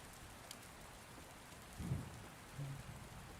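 Heavy rain pours steadily outdoors with a low rumble of distant thunder rolling through twice, a constant hiss underneath and no voices.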